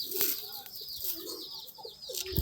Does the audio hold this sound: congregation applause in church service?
no